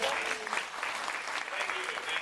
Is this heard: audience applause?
yes